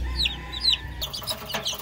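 Chickens and chicks clucking softly nearby, with short high calls repeating over a low background rumble.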